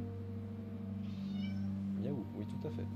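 A cat meows a few times, short close calls rising and falling over a steady low hum of background music, with a brief earlier high chirp.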